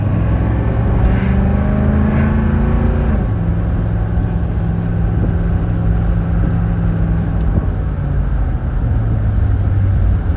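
A 1984 GMC Suburban K2500 with a Detroit Diesel engine drones steadily from inside the cab while driving, its low engine note holding loud and continuous with audible shifts in pitch as it changes gear.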